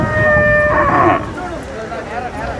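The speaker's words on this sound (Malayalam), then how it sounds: "ഇത് രണ്ട് പശുക്കുട്ടികളാണ്" Native Andhra-breed calves at a large cattle market in Kerala, with a loud drawn-out moo close by followed by quieter market noise.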